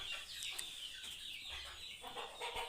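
Several chickens on a farm with a small shed cluck quietly nearby, faint intermittent calls overlapping across a few seconds without talk.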